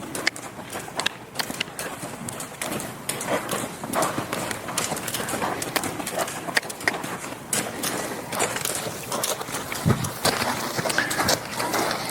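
Hooves of a 19-year-old blue roan pinto mare trotting, a steady rhythmic clip-clop on ground with some scuffing, fairly close and continuous without talk.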